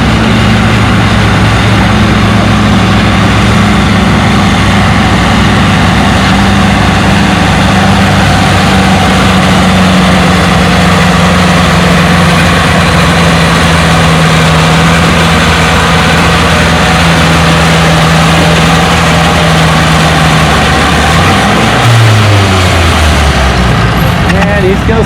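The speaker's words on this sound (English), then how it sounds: "back on the sled with the turbocharged Massey Harris 20" A turbocharged Massey Harris 20 tractor pulling a weighted sled at a tractor pulling event, its engine roaring loud and steady with a sustained low drone that shifts pitch and drops away near the end.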